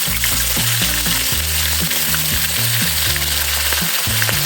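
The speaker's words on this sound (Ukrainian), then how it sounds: "Обсмажуємо дозовано. якби запечатуємо." Meat for shashlik, seasoned with Mingrelian adjika and salt, searing in a kazan cauldron, a loud, continuous close-up sizzle and crackle of hot fat with small pops, no voices.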